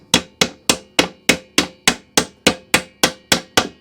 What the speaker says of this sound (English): I'm just going to tap that on with a little tiny socket and a hammer first